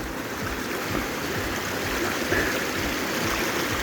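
A river rushes steadily past a makeshift wooden log crossing in the Cairngorms of Scotland, a continuous close, full flow of water with no voices.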